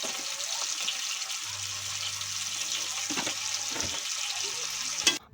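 Onion and tomato frying with salt in a pan during home cooking of a meat curry: a steady loud sizzle throughout, with a few stirring knocks and scrapes toward the end, no voices.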